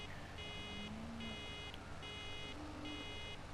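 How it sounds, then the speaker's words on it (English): A Deutz-Fahr baler sounds a loud electronic warning beep in four evenly spaced bursts, each about half a second long, over a low mechanical hum. "It's quite a loud beep,"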